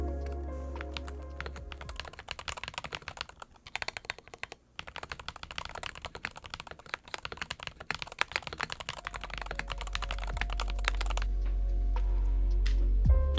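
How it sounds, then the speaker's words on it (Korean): Steady, fast typing on a stock Corsair K70 PRO TKL MGX magnetic-switch keyboard with plastic housing, crisp, dense clicks and clacks, close up and alone, ending in a few slower keystrokes. "그럼 먼저 순정 상태의 타건음부터 들어보시죠"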